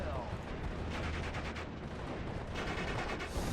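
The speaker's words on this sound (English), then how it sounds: "Oh wow, this MG has some range." Machine gun fire in a World War II Normandy strategy game, rapid bursts crackling in dense, continuous volleys at moderate distance, with battle noise and faint talk underneath.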